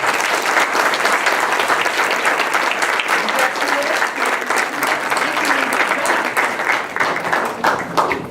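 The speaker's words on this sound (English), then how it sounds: "Let's give them one more round of applause" Steady applause from parents and audience at a school board meeting, honoring schoolchildren; dense, sustained clapping fills the room at even loudness throughout.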